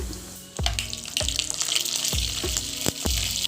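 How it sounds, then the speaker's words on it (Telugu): Whole spices such as cardamom, cloves, cinnamon, marathi moggu and mace fry in hot ghee and oil for a gongura prawn pulao, giving a loud continuous sizzle punctuated by sharp pops and crackles. "ఇప్పుడు ఇందులో మనం పలాక్ కావాల్సినవి యాలక్కాయ లవంగ చెక్క మరాఠీ మొగ్గ జాపత్రి ఇవన్నీ వేసి వేయించుకోవాలి"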